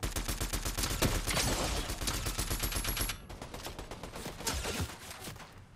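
Rapid gunfire in the video game Fortnite, dense bursts of automatic shots crackling continuously, then a brief lull and more scattered fire, fairly close with no talk over it.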